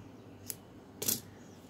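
Scissors snipping thread while knitting baby booties, two short, crisp metallic clicks, the second louder, in a quiet room.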